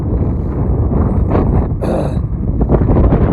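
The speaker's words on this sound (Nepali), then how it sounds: "अब हावा चलेर" Strong wind buffets the microphone in a loud, continuous low rumble, with a brief higher whistle partway through, at the Nepal–China border.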